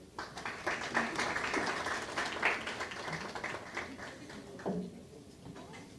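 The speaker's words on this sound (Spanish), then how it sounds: "Les pido que lo recibamos con un fuerte aplauso." A crowd at a university lecture applauds with steady, moderately loud clapping for several seconds before it thins out toward the end.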